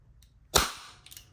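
A single sharp shot from a silver Wingun S731 CO2 airgun revolver, a loud crisp crack with a short decaying tail, followed by faint clicks from the mechanism.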